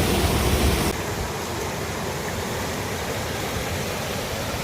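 Steady, loud rushing water from a flooded creek fills the scene with a dense, unbroken roar; a brief burst of harsher noise at the very start drops to a constant torrent.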